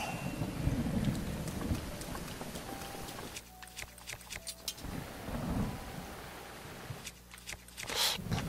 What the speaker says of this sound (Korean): 어떻게 들이자마자 번개